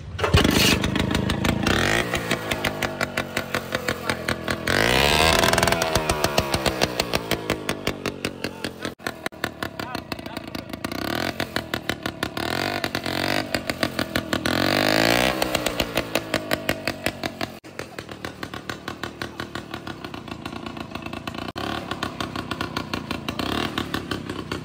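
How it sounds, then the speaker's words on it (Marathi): A kick-started tractor engine runs close by with a rapid, steady chugging beat that twice swells into louder revs before settling back to idle, with no voices. "ही किक मारल्यानंतर हा ट्रॅक्टर चालू होतो"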